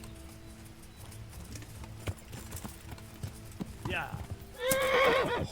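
In Kingdom Come: Deliverance, a horse's hooves clip-clop in a scattered, uneven rhythm, then a loud whinnying neigh closes the clip, with a brief spoken word from a player.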